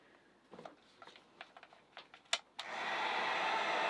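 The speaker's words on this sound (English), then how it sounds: "I'm going to put that heat gun on low." A heat gun switches on at a low setting to shrink heat-shrink tubing for a sailboat seal, blowing a steady broadband whoosh that starts abruptly after a few light clicks and handling taps.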